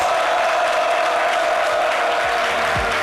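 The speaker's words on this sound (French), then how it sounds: "Continue d'applaudir pour accompagner notre champion du monde." A studio audience keeps applauding a world champion, a loud, steady, dense wash of clapping that fills the whole stretch without pause.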